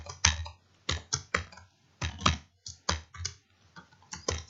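Computer keyboard typed in quick irregular clusters of crisp clicks and key taps, close and fairly quiet, with no talking.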